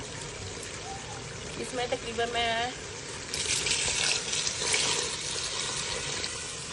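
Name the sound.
pouring water into pot for beef karahi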